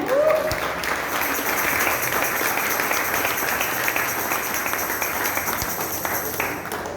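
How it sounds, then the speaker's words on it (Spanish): Church congregation applauding together, a steady, dense burst of clapping that fills the room and continues evenly for several seconds, with a few voices briefly audible. "Y si tú lo crees, levanta un aplauso al Señor."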